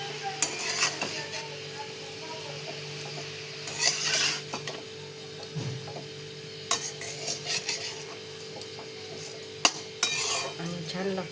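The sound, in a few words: mixing chakwat greens in a pan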